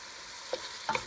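Ground turkey for a bolognese sizzles steadily in a pan, a close, even hiss with a couple of brief stirring scrapes, with no voice.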